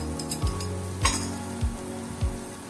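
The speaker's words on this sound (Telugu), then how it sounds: "పచ్చివాసన పోయే వరకు వేయించుకోవాలి" Masala with chili powder fries in a pan for egg mutton soup, a constant sizzle broken by four evenly spaced clinks as a spoon stirs against the metal.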